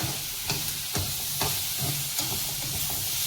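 Mushroom gravy sautéing in hot oil, a steady sizzle with recurring clicks and scrapes from stirring at a regular rhythm, close and with no voices.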